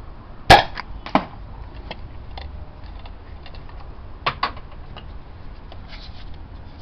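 A toy universal launcher test-firing a three-shot mega absolver: one sharp loud pop followed by a softer second snap, then a pair of quieter clicks a few seconds later, close with faint mechanical rattles between.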